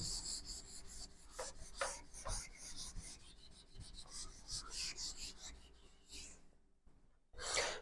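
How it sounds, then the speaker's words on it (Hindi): Quiet, scratchy rubbing strokes as a duster wipes a whole board clean in a classroom, with irregular swipes and brushing sounds, then a louder final rub. "इसको एक बार पूरे को रब कर देता हूं मैं"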